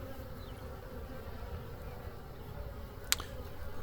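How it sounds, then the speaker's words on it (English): Honeybees fly around a hive after a swarm install, making a steady, continuous buzzing drone with one brief sharp click near the end. "Bees are flying out, foraging, coming back."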